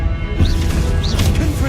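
A spell is cast in Hogwarts Legacy, a brief whooshing magical effect with two rising chirps over a dense, loud game soundscape.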